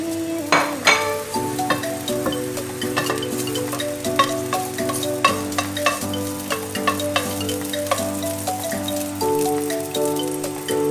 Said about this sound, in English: In a pan, we need to heat up oil, and then we're going to put the ginger first and stir